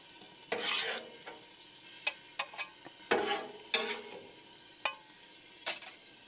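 A spatula scrapes peppers and onions across a Blackstone griddle into a bowl, giving repeated sharp metallic scrapes and clacks over a low background sizzle, fairly close.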